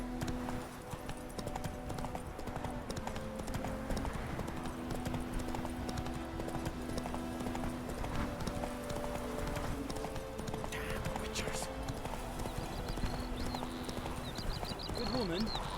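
Horse hooves in The Witcher 3 clip-clop at a steady riding rhythm on a road, with a droning game soundtrack underneath and a few brief bird-like chirps near the end.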